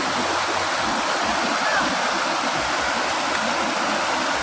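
Cold mountain stream water rushes and splashes in a steady, loud, broadband roar, close by and continuous outdoors.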